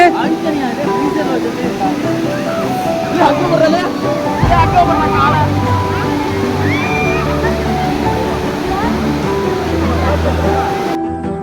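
A stream in Munnar, Kerala rushes steadily nearby, a continuous loud wash of water with voices talking over it throughout.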